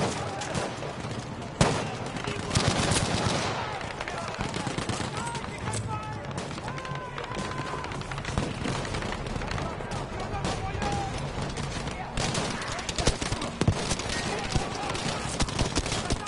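Gunfire in a World War II video game assault on a heavily fortified Nazi chateau, rapid bursts and scattered shots crackling across a busy battle soundscape, with occasional voices underneath.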